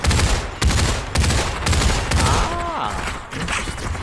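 Rapid bursts of MK18 rifle fire in the VR shooter Pop One, loud and close, with repeated automatic volleys separated by short gaps and a brief whistling tone mid-way; no talking.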